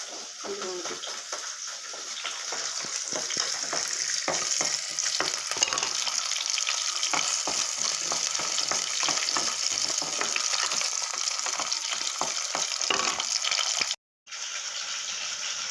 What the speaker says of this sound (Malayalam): എണ്ണ നല്ലതുപോലെ ചൂടായി വന്നിട്ടുണ്ട്. നമ്മൾ എടുത്ത് വെച്ചിരുന്ന ഒരു പിടി ഉള്ളി ഇതിലേക്ക് ചേർത്ത് കൊടുക്കാം.